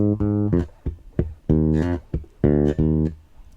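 An electric bass plays a short lick spanning beats one to three with a hammer-on, giving several clean, sustained low notes in a rhythmic phrase, close and alone without speech.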